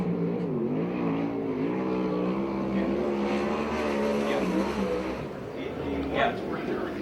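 A USAC/CRA sprint car engine roars steadily through a qualifying lap at the Perris So Cal Fair track, with a continuous loud, wavering drone and pitch shifts, while an announcer talks over it throughout.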